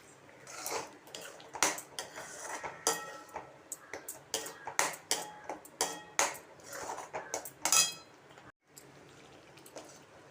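Tomato thokku stirred in a pan with fenugreek and turmeric powder, a metal spoon scraping and clinking repeatedly against the pan in uneven strokes, close and fairly loud, with a brief pause near the end.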